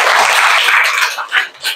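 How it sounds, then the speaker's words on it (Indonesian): A short burst of clapping from students in a classroom, bright and close, tapering off into scattered claps at the end. "Tepuk tangan untuk teman kita berdua ini."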